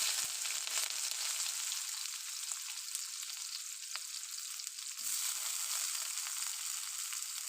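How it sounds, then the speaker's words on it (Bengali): Green chili and onion frying in hot oil for egg chow mein in a home kitchen, a steady dense sizzle running the whole time at an even level with small crackles, no voices. "এখন আমি কাঁচা লঙ্কা আর পেঁয়াজটা গরম তেলে দিয়ে"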